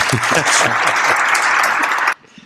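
A canned applause sound effect triggered from a clap button, a burst of dense clapping and cheering under overlapping talk that cuts off abruptly near the end.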